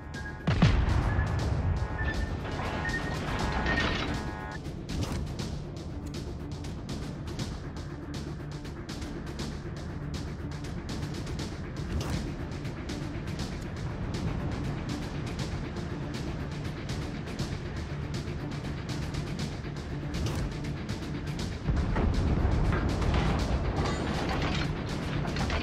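Naval gunfire in World of Warships: Legends, heard as a steady wash of battle noise with heavy booms and crashes that swell near the end, with no talk over it.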